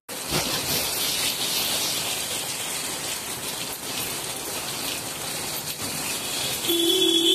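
Unseasonal rain with hail falling over farmland in Vidarbha, a dense, steady hiss of pouring rain with a constant roar throughout, loud and close, with no speech.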